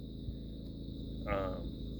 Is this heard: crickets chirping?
yes